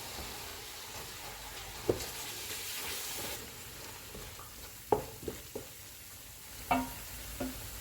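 Chili, Kashmiri red chili, coriander and cumin powders with salt roast in a pan, a soft steady sizzle broken by several scraping stirs and clinks of a spoon, close and without talk.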